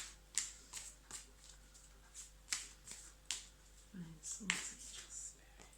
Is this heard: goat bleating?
no